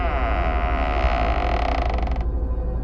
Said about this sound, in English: I heard one of the bathroom stalls open.